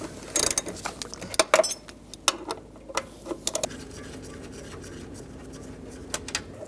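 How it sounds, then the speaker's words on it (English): A ratchet with a 10 mm socket removes door hinge bolts on a 2007-13 Chevy Avalanche, giving quiet irregular clicking bursts with scattered sharp metal ticks at close range. "I'm gonna take the two 10 millimeter bolts out that are right here"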